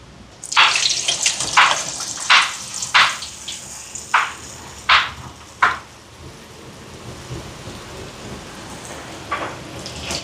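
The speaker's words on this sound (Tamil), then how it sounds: "எண்ணெய் சூடாயிட்டு வடையை போடுவோம்" Vadas are dropped one by one into hot oil while cooking food for the poor. Each drop brings a loud sizzling burst, about ten in quick succession, then a softer, steady crackle of frying with one more burst near the end.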